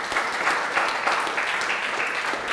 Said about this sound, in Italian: Qualcuno può fare un applauso al Signore?